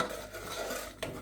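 Sugar melting with butter in a pan for a sticky toffee sauce is stirred with a utensil, giving soft scraping sounds and a brief clink over a faint sizzle, close and quiet.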